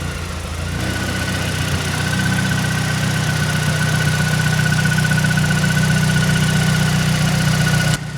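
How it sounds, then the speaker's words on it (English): A Mazdaspeed 3 engine idles steadily and loudly, a constant rumbling hum with a thin high whine running through it. "I still can't believe this thing starts and idles."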